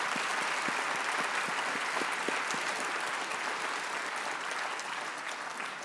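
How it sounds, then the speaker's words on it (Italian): An audience at an evening science lecture applauds guest physicist Thibaut Damour, a dense, steady wash of many hands clapping close and loud throughout, easing slightly toward the end. "Io vi chiederei subito un applauso per Thibaut Damour"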